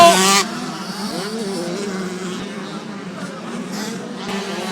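Motocross motorcycles racing at the Gaillac-Toulza round of the French 24MXT championship, engines droning and shifting pitch at a distance beneath crowd noise, with a louder burst at the start.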